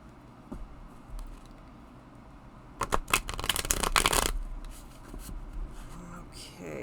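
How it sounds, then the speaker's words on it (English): A tarot deck is shuffled close by in one short burst of riffling cards between quieter stretches, with a voice talking faintly in the background. "You're going to struggle shuffling."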